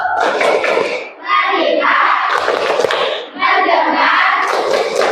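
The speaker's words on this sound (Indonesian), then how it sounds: "Tepuk fokus." A class of children does a rhythmic focus clap in a classroom, two loud, fast runs of many hands clapping together with a short pause between them. Young voices shout along and a teacher's voice is faintly heard.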